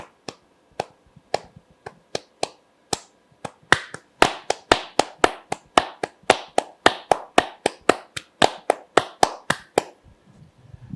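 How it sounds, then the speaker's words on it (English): One person claps a simple rhythm close to the microphone, sharp distinct handclaps starting sparse and then settling into a quick, steady repeating pattern with a few brief pauses. "Mark, wonderful you just clap something simple"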